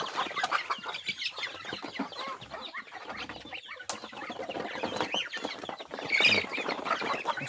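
Chickens cluck and squawk busily nearby, a steady stream of overlapping calls with one louder burst near the end; no one speaks.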